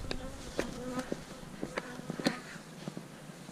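Honeybees buzz beside beehives near canola fields in flower, several passing close with rising and fading drones over a quiet outdoor background.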